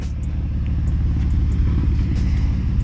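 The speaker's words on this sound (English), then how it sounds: "It's kind of hard to spin these back tires." Nissan 350Z engine rumbling loudly and steadily up close for a few seconds while the driver tries to spin the rear tires. Dense low engine tone with no voices.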